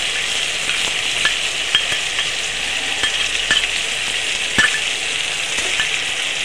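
Spice paste sizzles steadily in a pan with softened tomatoes, a continuous close frying hiss broken by occasional sharp crackles and pops, with no talking.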